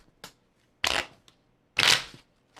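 A deck of cards for a board game being riffle shuffled up close, two loud fluttering bursts with a small tap before them and quiet gaps between.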